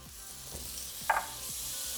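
Garlic sizzles in olive oil in a pan for shrimp scampi, a faint, steady frying hiss with a short utensil tap near the middle and no one talking.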